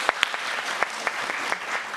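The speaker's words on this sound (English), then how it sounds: "a round of applause for the audience, please" Audience applause in a conference hall during a plenary session, a thin, even patter of clapping from a sizeable crowd, with a few louder, closer claps standing out.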